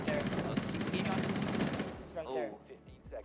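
Rapid submachine gun fire in a team shooter video game, a dense, fast burst lasting about two seconds before stopping, with players' voices talking over the end.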